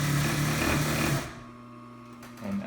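A Columbia N430-2 industrial sewing machine, made in Japan and overhauled, stitches at a very fast, loud, close hum at full stitch length for just over a second, then the motor winds down to a quieter idle whine.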